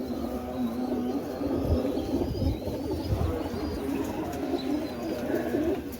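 Racing pigeons coo in a loft at a small Punjabi village pigeon-flying setup, a continuous low murmuring chorus of several birds, fairly close and steady throughout with a faint background hum.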